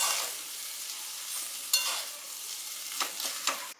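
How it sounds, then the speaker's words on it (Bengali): Egg and soybean fry and get stirred in a pan for chowmein: a steady close sizzle with several sharper scraping stirs toward the end. "এখানে এখন ভাজাভুজি চলছে"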